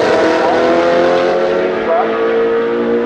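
Historic touring race cars in the Spezial Tourenwagen Trophy at Hockenheim roar past with sustained, loud engine tones that shift in pitch, under continuous commentary.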